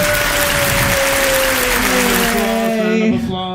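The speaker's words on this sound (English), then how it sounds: "Round of applause." A round of applause on a 3D printing gear show, a loud, continuous burst of clapping with a steady tone sounding through it, trailing off abruptly at the end.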